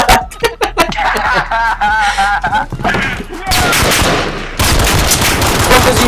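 Rapid overlapping gunfire bursts from Call of Duty Modern Warfare in online multiplayer, loud and dense, with laughter and players talking over the shooting throughout.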